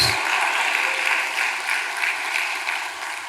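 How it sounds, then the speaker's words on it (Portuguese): A church congregation applauds during a Baptist communion service, a dense, even wash of many hands clapping together. It holds steady for a few seconds with almost no voice over it. "aplauda o Senhor"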